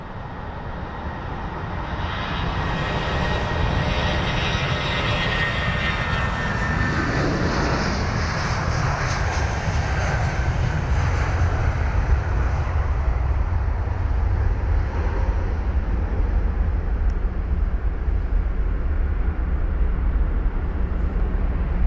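A United Boeing 777 with Pratt & Whitney engines at London Heathrow, a loud, steady jet engine roar that holds without a break, with no talk over it.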